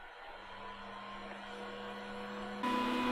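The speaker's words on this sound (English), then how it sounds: "now my 3D printer is on its way doing its job" A 3D printer running a USB print job, a steady low mechanical hum with faint whirring and tonal motor whine that rises slightly in level, heard close with no talk.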